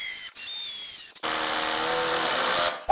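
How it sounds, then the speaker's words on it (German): A power screwdriver drives screws into a wooden picnic bench frame, whirring in a short burst, then a longer, steady run of about a second and a half that strains slightly under load, close and alone. "Und wir schrauben das Ganze jetzt zusammen"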